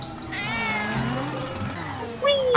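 Cartoonish cat meows from the game GTA 5 Online, a rising, wavering yowl sustained for about two seconds, then a sharper, louder meow cutting in at the end, close and clear with no talking.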